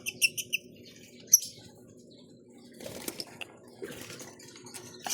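Caged birds give quick high chirps and tweets, a burst at the start and scattered calls later, close and fairly clear over a low murmur of background voices.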